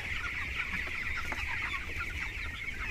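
Chickens on a village poultry farm cluck steadily in a dense, continuous flock chorus, close and fairly loud, with no voices over it.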